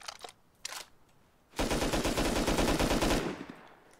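Sustained automatic assault rifle fire in the survival game Rust, a dense rapid burst lasting about two seconds, loud and close, after a few brief clicks and shuffles.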